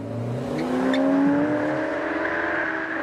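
A car drifting on a street: a close, sustained engine whine with rising revs and a faint tire squeal, swelling briefly then settling into a steady drone.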